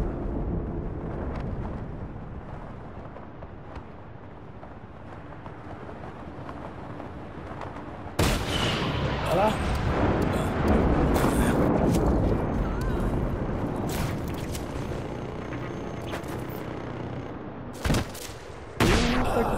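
Bomb explosions and gunfire in Just Cause 3: a steady roar of rumbling game action, then a sudden louder burst of blasts and rapid fire partway through, with more sharp hits near the end.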